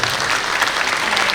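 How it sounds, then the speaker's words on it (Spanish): An audience at a panel event claps in a dense, steady burst of applause that fills the brief moment without a break. "un fuerte aplauso por favor"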